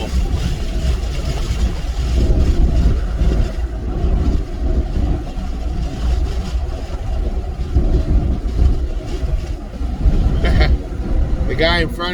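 Car engine rumbling steadily from inside the cabin while moving through traffic, with a brief whoosh of a passing vehicle near the end; someone talks over the drive throughout.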